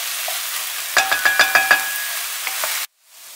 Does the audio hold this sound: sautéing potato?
yes